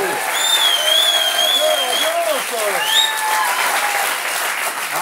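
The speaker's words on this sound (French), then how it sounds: "Vous pouvez l'applaudir." Studio audience applause on a French television talk show, a steady dense wash of clapping lasting several seconds, with excited voices and whoops rising over it.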